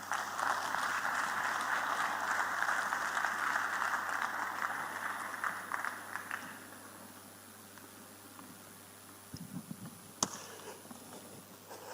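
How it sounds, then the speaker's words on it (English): Sustained applause from a conference audience follows a speech by Lord Marland at an investment forum in Lagos, with a broad, even clatter of many hands lasting about six seconds before fading to a quiet room with scattered faint noises. "Another round of applause for Lord Marland there."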